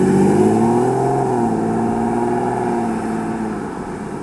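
A 2022 Audi RS 3 with its five-cylinder engine pulls hard as it is driven and accelerates, giving a loud, steady, close-up growl whose pitch rises and then settles, with no voices.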